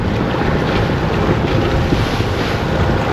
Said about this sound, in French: Le vent se lève là, on a 18-19 nœuds de vent.